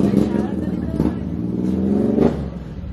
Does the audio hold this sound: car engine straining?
yes